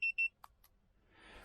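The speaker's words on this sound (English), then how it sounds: "that beeping is definitely going to get annoying if it keeps doing that" A wireless tire pressure monitor unit fitted to a turbocharged Toyota Corolla gives two quick, high electronic beeps. A few faint clicks follow, then a soft rising hiss.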